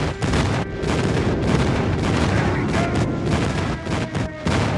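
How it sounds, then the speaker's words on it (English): Video game airstrike: a dense, loud barrage of explosions and booming impacts rolls on continuously, with brief dips between blasts. "Friendly airstrike incoming."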